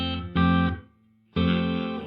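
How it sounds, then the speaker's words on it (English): Electric guitar played through a Donner pedal on its room reverb setting with decay turned all the way down: two loud distorted chords separated by a short gap, each cutting off with almost no tail. "Here's with the decay all the way down"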